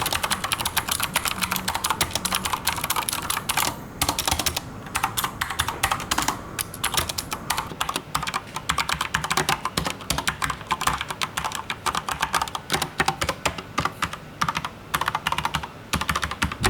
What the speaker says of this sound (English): They sound pretty good, but of course you're typing on a metal surface, so there'll be a slight ping